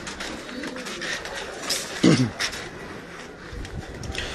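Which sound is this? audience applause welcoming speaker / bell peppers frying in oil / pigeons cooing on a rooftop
pigeons cooing on a rooftop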